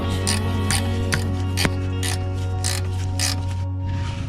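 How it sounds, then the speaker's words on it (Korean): A wrench works a car belt fixing bolt loose during a drive belt replacement, making a run of rhythmic ratcheting clicks over a steady engine-bay hum. "요 잡고 있는 요 고정 볼트를 먼저 살살 풀어주세요."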